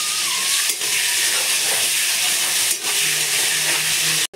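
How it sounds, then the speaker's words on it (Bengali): Fish heads, then cumin seeds, frying in hot oil give off a loud, steady broadband sizzle and hiss that runs unbroken with only brief dips. No voices are present. "এই যে তেলে দিয়ে দিয়েছি মাছের মাথা, মাছের তেল ভালো করে ভাজা হয়ে যাক"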